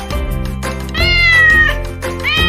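A cat meows loudly and close by, three drawn-out cries in quick succession, the middle one longest and rising in pitch.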